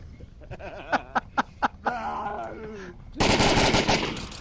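A rapid string of sharp gunshots rings out in a VR shooting game over a voice with a laughing edge, then a loud sustained burst of fire closes the moment.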